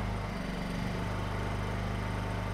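A Honda EU2000i inverter generator running a fan hums steadily at a low, even idle, with a constant mechanical drone and no change in speed throughout.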